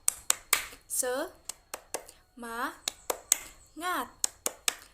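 A classroom spirit clap: a teacher leads sharp, rhythmic hand claps in short bursts, alternating with voices chanting between the clap groups, close and clear.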